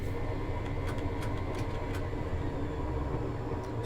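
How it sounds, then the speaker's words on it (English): A Class 158 diesel multiple unit coasts with power shut off on the Bristol Temple Meads to Exmouth line in Train Simulator, giving a steady, loud rumble of wheels and running gear with a few faint clicks and no talk. "So I've just shut off the power for a moment just to allow the train to coast"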